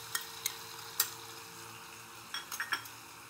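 Poppy seed paste going into garlic fried in sour yogurt, a faint low sizzle punctuated by a handful of sharp utensil clinks and scrapes against the pan, quiet and close without speech.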